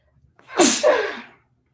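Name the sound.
sneeze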